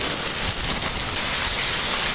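Dense, steady rain patters hard on a surface close by, a loud continuous hiss with no pauses and no voices.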